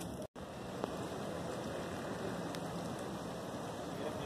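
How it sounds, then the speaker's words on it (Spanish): Rain begins on a hillside in Siloé, Cali, Colombia, making a steady, dense hiss of falling drops with a brief dropout near the start and no talking. "Empieza pues a llover acá"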